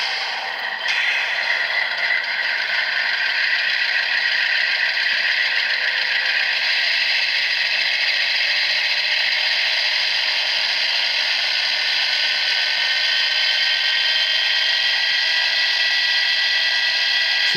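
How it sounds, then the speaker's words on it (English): An O scale MTH Amtrak P42 model diesel locomotive plays its HEP rev sound effect, revving up into a steady, loud, high-pitched mechanical whine that holds continuously without voices. "So that's the sound of the HEP rev."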